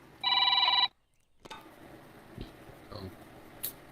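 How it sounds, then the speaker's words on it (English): A telephone bell rings loudly in one short burst, then cuts off, leaving quiet room sound with a few faint taps and knocks. "Hold on, I gotta answer the phone right quick."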